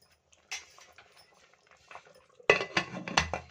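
A metal pressure cooker lid is clanked into place while cooking kushka rice at home: faint scrapes first, then a loud cluster of sharp metallic clanks and rattles near the end, close and without speech.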